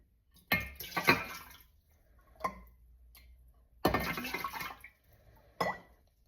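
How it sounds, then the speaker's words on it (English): Rice water poured back into a container in a home kitchen, heard as several separate splashy bursts of liquid, each a second or so long, with quiet gaps between them and no talking. "we're going to go ahead and put our rice water back in"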